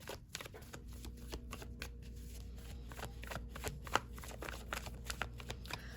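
Tarot cards are shuffled by hand in a quick run of soft riffling flicks and slaps, close and fairly quiet, with a steady low hum underneath.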